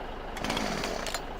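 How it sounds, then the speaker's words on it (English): Chainsaw in the farming video game Farming Simulator 17, a brief, rough, buzzing motor snarl heard alone at moderate level. "chainsaw, keep forgetting about that."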